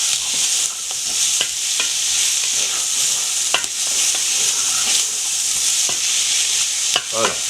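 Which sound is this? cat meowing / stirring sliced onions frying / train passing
stirring sliced onions frying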